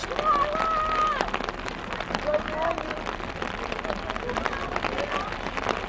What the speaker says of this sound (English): Could be a little hazardous in a steady rain like this.